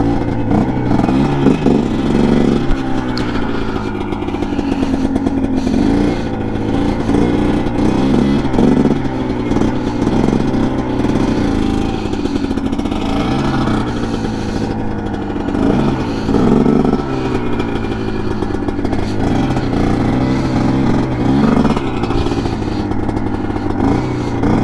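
A 2021.5 GPX TSE250R motorcycle on a test ride, its engine droning loud and close with repeated rising and falling revs and a steady rumbling throb throughout.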